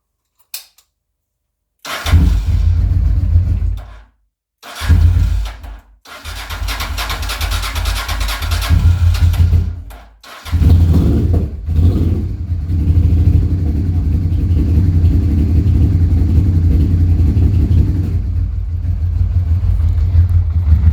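A Honda Transalp XL600 motorcycle engine cranks and fires after a short silence, stumbles and cuts out twice, then catches and settles into a loud, steady close-up idle.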